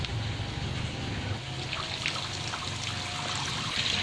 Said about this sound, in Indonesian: ini proses pengurangan airnya, pakai kita buka ya airnya